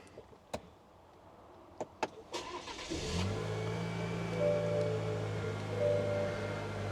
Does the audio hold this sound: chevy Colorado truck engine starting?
yes